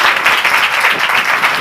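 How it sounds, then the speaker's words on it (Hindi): Loud, dense applause from a church congregation, a continuous roar of many hands clapping close by, with no talking over it. "जोरदार तालियां दें"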